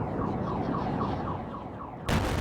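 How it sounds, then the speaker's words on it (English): Car alarm sounding after a building implosion, its repeating warbling tone cycling steadily over low residual rumble, moderately loud, then cut off by a sudden broadband burst at the end. "Car alarm."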